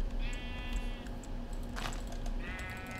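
Sheep bleating in the video game Minecraft Feed the Beast: two clear, wavering bleats, one near the start and another near the end, fairly close and isolated over a quiet background hum.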